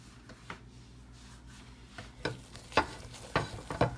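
Melting marshmallow for kosher Rice Krispie treats stirred with a spoon in a pot, giving soft scraping and sticky stirring strokes that grow denser and louder toward the end, with a faint sizzle underneath.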